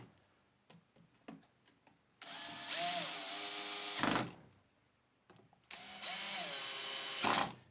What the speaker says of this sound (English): You want to use a chuck setting on this if you can, just to make sure you don't overdrive them and strip the screws out.